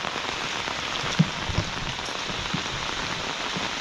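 Steady rain pouring in the Konkan countryside, a dense even hiss of drops on surfaces with a few closer, heavier splats, continuous and fairly loud with no voices.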